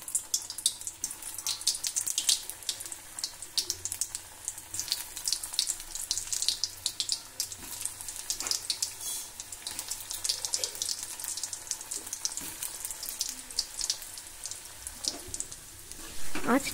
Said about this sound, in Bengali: তেল গরম হয়ে গেছে, এবার ছেড়ে দেওয়ার পালা। তো সবগুলো একে একে ছেড়ে দিয়ে ভেজে নিই।